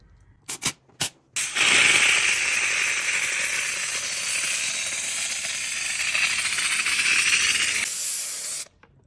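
A few short puffs, then a steady loud hiss of steam jetting from a Karcher SC1 EasyFix steam cleaner for several seconds before cutting off.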